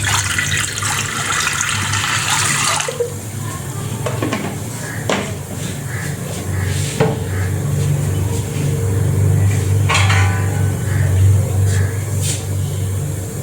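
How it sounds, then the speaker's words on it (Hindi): Water is poured onto the base of a pressure cooker for steaming, producing a broad rushing splash up close, followed by a low running-water wash with occasional metallic knocks and clinks. "कुकर में कुछ पानी डाल देंगे हम नीचे सतह पे।"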